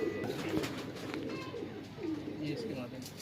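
Low, muffled cooing from Madrasi pigeons in an Ajmer, Rajasthan loft, a few soft rolling phrases under background noise and some nearby talk.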